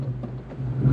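Engine of a 1997 Ford Mustang SVT Cobra with newly fitted injectors idling roughly and stumbling as if about to stall, a low uneven drone that dips and then swells near the end.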